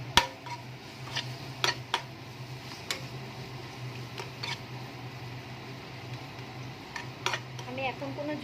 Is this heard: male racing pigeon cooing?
no